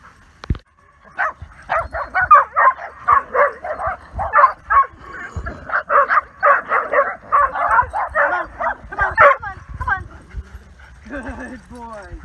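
A fear-aggressive dog named Riley barks and yips in rapid, loud bursts for several seconds, with a brief whimpering whine near the end and little else around it.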